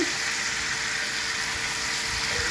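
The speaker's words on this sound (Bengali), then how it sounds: "একটু জল দিচ্ছি" Water poured into a hot pan of Bengali fish curry gives a steady, even sizzle and hiss that holds at one level from start to finish, with no talk over it.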